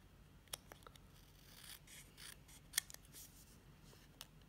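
Scissors snip and trim a piece of paper for a folded paper Christmas tree craft, giving a few sharp, quiet close-up cuts spaced irregularly, with soft rustling of paper between them in a very quiet room.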